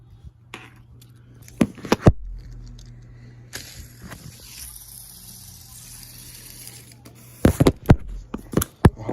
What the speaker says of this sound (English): Ooh, a fidget spinner. I hope this thing works.